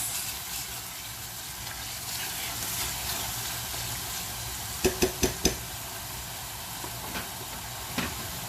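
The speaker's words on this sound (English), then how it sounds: "Now I'm adding the fenugreek leaves into this. Give it a mix." Fenugreek leaves dropped into a pan of dum aloo give a steady, moderate broadband sizzle with a few sharp crackles and pops near the end as they are stirred through.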